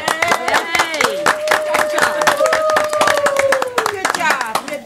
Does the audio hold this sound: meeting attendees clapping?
yes